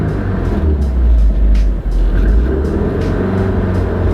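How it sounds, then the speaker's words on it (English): A 500HP Subaru STI engine runs close by with a deep, rumbling throb, rising slightly in gentle revs over a steady idle. "if I rev the car up a little bit"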